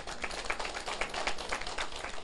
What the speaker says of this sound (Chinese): 拍手吧